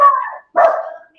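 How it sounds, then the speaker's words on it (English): A pet dog gives two sharp, close barks in quick succession, then falls quiet. "that's my dog"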